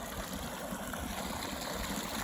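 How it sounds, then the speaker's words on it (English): A small mountain stream along the Pacific Crest Trail in Oregon near South Sister rushes steadily, a close, even, unbroken wash of water with no voices. "It's an awesome little stream."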